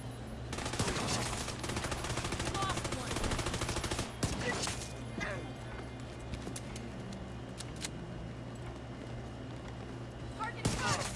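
Sustained automatic gunfire in The Division 2, dense rapid shots rattling on and off over several seconds, with someone talking over the din.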